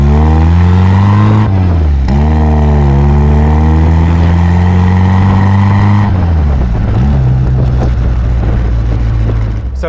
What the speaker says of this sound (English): you really get that lovely fruity exhaust note from this new sports exhaust